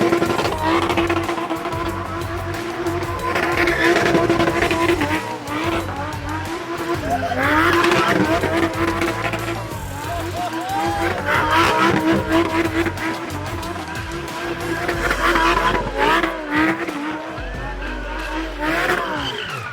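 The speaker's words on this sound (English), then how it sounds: "his supercharged Gallardo, ridiculous, scary car that I will never, ever be a passenger in" A supercharged Lamborghini Gallardo drives hard with its engine roaring through repeated revving surges and tires squealing and skidding, loud and close throughout the clip.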